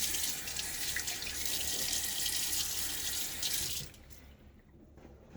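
Hard water runs steadily from a tap for several seconds, splashing close by onto a face during a shave, then cuts off, leaving near silence.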